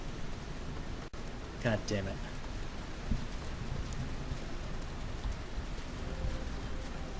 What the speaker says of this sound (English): Ah, it's still raining